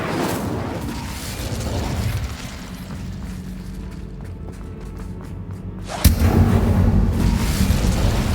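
Incendio fire spell cast in Hogwarts Legacy, a whooshing rush of flame over a dense rumbling bed, then a sharper, louder burst of fire near the end that holds steady.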